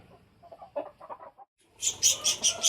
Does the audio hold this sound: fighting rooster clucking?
yes